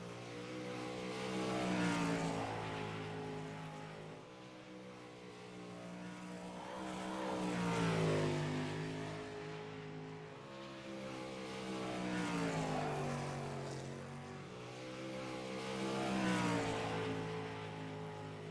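Race car engines from a Midwest Outlaws 305 sprint-style dirt track event roar and rise and fall in repeated waves as cars circle the track, loud and steady with no talk over it.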